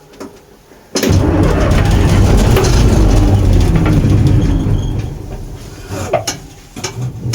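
A Bizon combine harvester's heavy engine cranks and roars loudly for several seconds after a sudden cold start in freezing weather, then rumbles down into rough sputtering and knocks.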